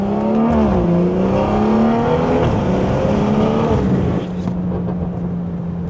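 A stage 2 tuned BMW B58 engine drones loudly through its exhaust in a steady, tonal rumble that dips in pitch and eases slightly partway through.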